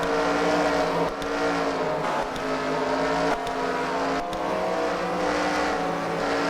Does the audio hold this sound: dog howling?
no